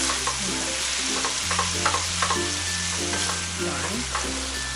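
Chunks of pork for Thai chili pork cook in a hot pan, producing a loud continuous sizzle and crackle close up, with light spitting and no talking.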